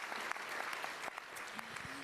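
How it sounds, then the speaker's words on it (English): Applause from an audience at the grand opening ceremony of the Brooklyn Nets training facility, a dense continuous clapping with a voice briefly audible underneath. "Please, another round of applause."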